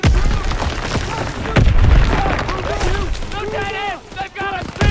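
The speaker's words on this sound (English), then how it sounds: "Gunfire! We must be near our guys." Booming gunfire and explosions from a World War II battle in Call of Duty: WWII roll through continuously, with soldiers shouting over the loud, dense combat noise.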